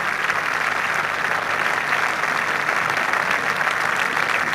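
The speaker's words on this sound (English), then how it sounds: "acknowledges the applause of the appreciative crowds around 18" Sustained, even applause from appreciative golf crowds around the 18th green at the 1986 Open Championship greets David Graham, the reigning US Open champion, in a steady wash with no gaps.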